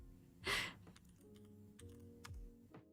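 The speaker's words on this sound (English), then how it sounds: "I've just smashed the keyboard" A computer keyboard is mashed in a quick loud burst of clattering keys, followed by scattered lighter key taps and clicks, close and otherwise quiet.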